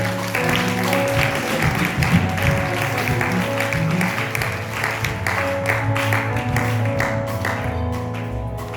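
A church congregation at a healing service breaks into sustained applause, a dense patter of clapping with a crowd murmur underneath, steady and close throughout.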